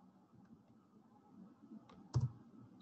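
A computer mouse clicks while a Nescafe logo is placed into a design file, giving one or two sharp, close clicks against a quiet room background.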